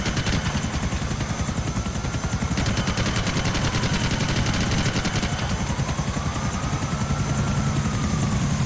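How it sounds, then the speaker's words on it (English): Helicopters fly overhead in GTA IV, a loud continuous rotor chop with engine whine filling the scene throughout, with bursts of gunfire mixed in during a team deathmatch. "Oh, they're in the air. They all have helicopters."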